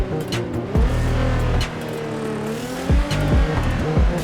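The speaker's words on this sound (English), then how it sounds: "Hear that turbo blow-off sound?" Veilside Nissan Z with an 800 HP twin-turbo RB38TT engine in the GTA 5 racing game, its engine roaring loud and close with sharp bursts and tire squeal, brief turbo blow-off chatter between throttle blips, no talking.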